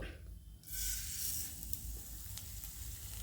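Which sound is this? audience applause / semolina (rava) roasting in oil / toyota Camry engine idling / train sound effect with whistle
semolina (rava) roasting in oil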